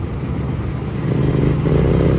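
Royal Enfield Bullet and GT650 motorcycles riding fast on an open road, a steady engine drone with wind rush that swells slightly louder toward the end.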